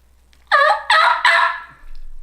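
Three sharp turkey yelps on a mouth call imitating a hen turkey, in quick succession, loud and close, followed by quiet.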